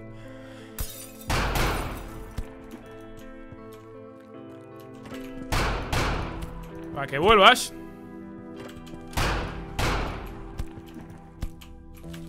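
Gunfire in the video game The Final Station: several loud, widely spaced shots ring out over a few seconds while someone talks throughout.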